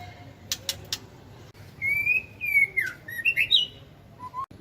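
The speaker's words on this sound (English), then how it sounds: "Poor little birds." Small caged birds for sale at a morning market in Quy Nhon, Vietnam, give bright whistled chirps and rising calls in short bursts, fairly close and clear over faint background noise.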